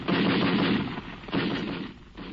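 A Gatling machine gun fires in dense, continuous bursts with a brief pause between them, heard as a loud, harsh rattling roar on an old, band-limited recording, with no talking.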